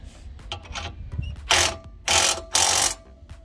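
A ratchet clicks as it tightens a new 17 mm castle nut on a tie rod end of a 2009 Honda Accord, with a few light ticks followed by three loud, close ratcheting strokes.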